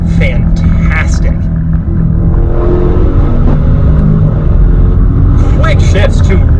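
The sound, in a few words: Maserati Levante Trofeo engine accelerating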